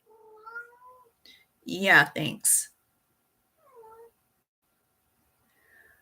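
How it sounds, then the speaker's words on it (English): A pet cat meows several times in short, separate calls around a loud burst of a person speaking, the meows faint and spaced across a quiet room. "my kitty cat is having a ball if you're hearing noise"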